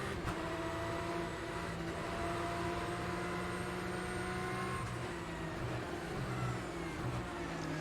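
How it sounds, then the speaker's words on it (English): Porsche 911 GT3 Cup flat-six engine held at steady high revs in a racing game at Indianapolis Road Course, a continuous whining drone with faint shifts in pitch and no voices over it. "I personally have always loved the sound of the flat six engine"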